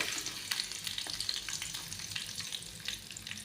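Dried coconut pieces and cashews fry in hot ghee, a faint, steady crackle and sizzle with small popping bursts throughout, no voices.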